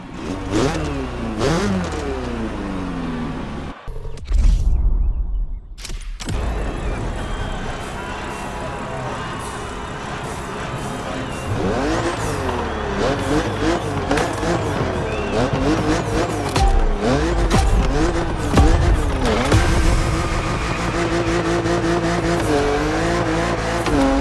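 A BMW Z4 races across the roads of Maui in The Crew Motorfest, its engine revving hard through shifting pitches while tires squeal and skid, loud and continuous with a brief drop-out early on.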